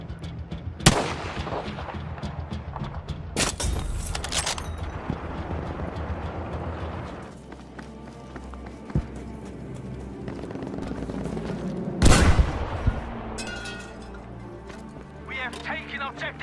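Gunfire in Battlefield 5 with a sharp sniper shot near the start, then bursts of shots and blasts, including a loud crack around the middle, over a busy battle din while a voice talks over it.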